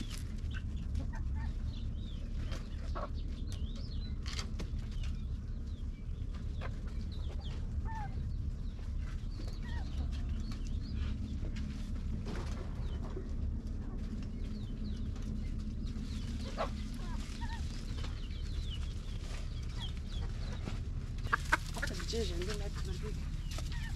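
Farmyard chickens cluck softly and intermittently over a steady low background hum, with scattered faint calls and small noises across a long stretch and no clear talk.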